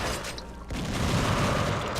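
Handgun alternate fire in the video game Gunrgirl 2 goes off as a short blast partway through, followed by a loud, dense rumbling burst that fills the rest of the moment amid game noise.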